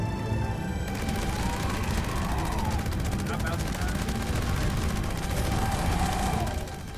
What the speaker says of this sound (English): Time for the Gauss Minigun.